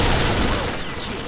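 A rapid burst of gunfire from an old weapon in Combat Arms comes close and loud at first, then trails off into fading echoes.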